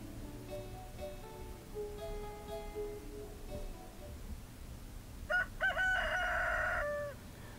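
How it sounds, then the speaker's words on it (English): A rooster in the Stardew Valley farming game crows once near the end, a loud drawn-out cock-a-doodle-doo over quiet game music, with no talking. "that's the rooster"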